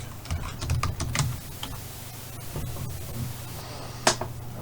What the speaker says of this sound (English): let me type in Americans